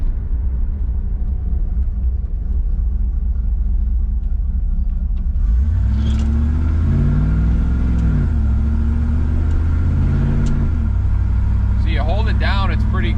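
A 1985 Camaro Z28 engine rumbles while driving, then revs up through the gears with rising and falling tones as the transmission shifts. Loud and close, with a person talking over it.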